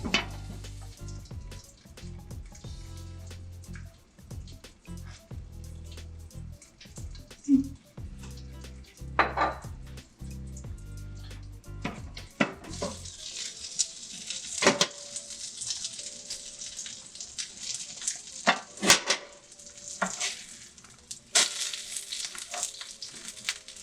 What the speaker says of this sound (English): Let it simmer for another 5 minutes.